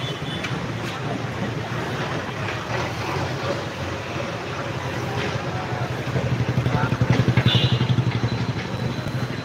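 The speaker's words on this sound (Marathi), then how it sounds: "हो ट्रॅक्टरवाला चालला आहे" Tractor engine passing along a busy morning street at Trimurti Chowk in Pune, where building construction is under way. A steady low, throbbing rumble grows louder toward the end as the machine draws near.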